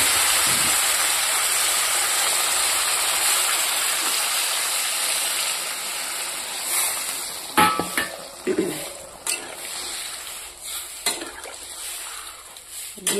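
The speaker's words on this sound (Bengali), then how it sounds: "এবার পরিমাণ মতো আমি জল দিয়ে দেবো।" Water poured into a pan of frying Bengali fish curry brings a long, bright hiss of sizzling that slowly fades, followed by a few clinks and scrapes of a utensil against the pan.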